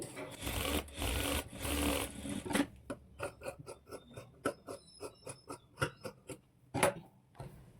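A sewing machine stitches a blouse seam: a loud, steady whirring run gives way to a slower series of crisp, evenly spaced stitch clicks, close up and alone.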